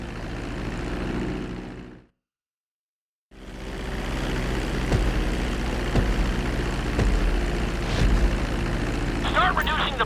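Propeller airplane engine in Grand Theft Auto V flight school during a runway landing approach, a steady loud drone that cuts out briefly, then returns with occasional clunks and a rising whine near the end.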